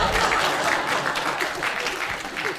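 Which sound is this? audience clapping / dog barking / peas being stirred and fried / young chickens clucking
audience clapping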